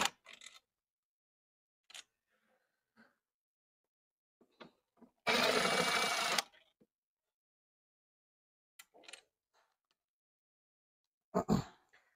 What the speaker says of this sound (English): Now we want to remove these two bolts next to the airbox.